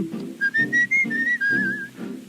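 A man whistles a short tune, clear bright notes rising and sliding over a soft band of accompaniment, close and prominent.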